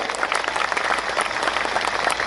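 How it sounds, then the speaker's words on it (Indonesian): Sustained applause from an audience at an Islamic sholawat gathering honouring the Az-Zahir group, steady dense clapping throughout with a faint crowd murmur, no speech over it. "tepuk tangan untuk Az-Zahir"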